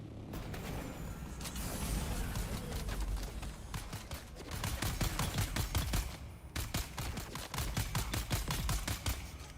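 Rapid automatic gunfire in the Dune video game, long sustained bursts of fast shots with short pauses between them, loud and dense throughout.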